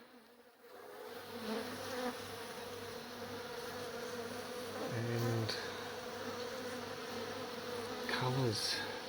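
Dense swarm of bees buzzing from a large hive being relocated out of a garage wall, a continuous close hum with individual bees droning past, and a brief word spoken.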